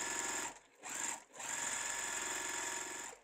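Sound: sewing machine stitching quilt blocks together

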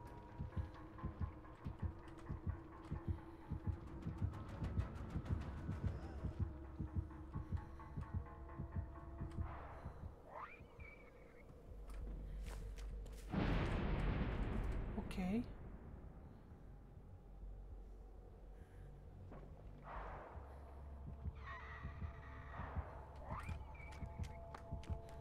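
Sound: heartbeat sound in the video game Dead by Daylight

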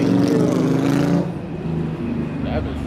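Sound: loud buses passing

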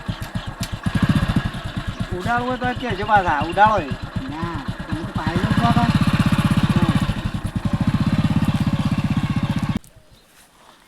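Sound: motorcycle engine

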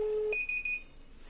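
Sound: long beep from GSM community alarm call

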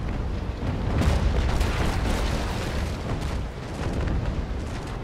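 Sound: ship cannon fire in video game

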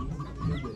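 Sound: chickens clucking at a poultry auction

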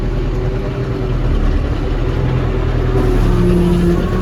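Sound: tractor engine pulling away in low-range fourth gear

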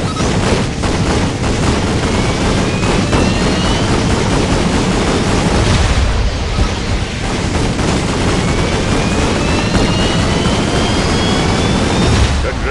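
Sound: supercharged combustor blast in Ratchet & Clank All 4 One video game

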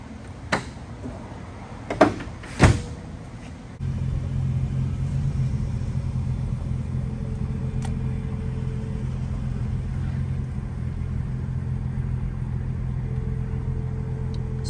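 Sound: 2009 Nissan GT-R door and setting off for a drive

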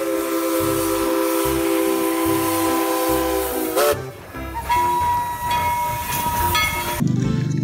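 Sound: Thomas toy train sounds

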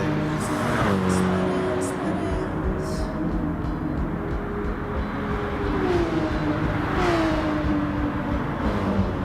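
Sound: Porsche 911 race cars driving, from video game Gran Turismo

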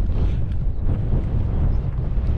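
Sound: strong wind on the Isle of Skye

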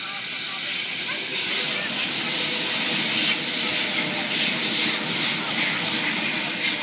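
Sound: Sydney Trains Oscar H-set train passing Wombarra platform

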